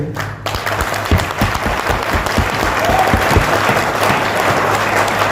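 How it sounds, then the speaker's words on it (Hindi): An audience at a company training seminar bursts into loud applause, dense clapping that builds and holds strong throughout, with crowd noise mixed in. "जो पूरी ताकत से ताली बजा रहे होंगे"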